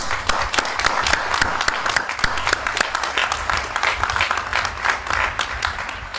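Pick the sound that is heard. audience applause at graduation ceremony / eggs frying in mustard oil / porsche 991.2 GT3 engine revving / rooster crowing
audience applause at graduation ceremony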